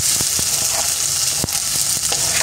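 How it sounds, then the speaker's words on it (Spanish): Chopped onion and garlic frying in a small amount of oil for rajitas con crema, a steady close sizzle with a few sharper crackles and pops, no voices. "Cebolla y los ajos para que se vayan friendo."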